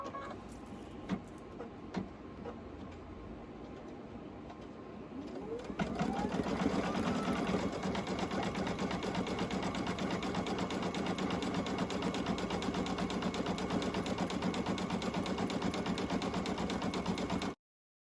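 A sewing machine stitches an embroidered sublimation patch, starting with a few light clicks, then running as a steady, dense, buzzing hum with rapid needle rhythm for over ten seconds, close and without talk.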